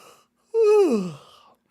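A man yawns once, loud and close: a drawn-out, voiced sigh that starts high and slides down before trailing off into a breathy exhale.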